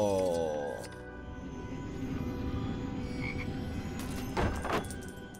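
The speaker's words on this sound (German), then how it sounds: "du hast da so einen komischen Frosch die ganze Zeit mit dabei. Ich habe mich schon gewundert, was die ganze Zeit hier am Quäken ist." A frog croaks repeatedly in the Lego Harry Potter video game, a low, steady and fairly faint croaking that carries on under background game sounds and music.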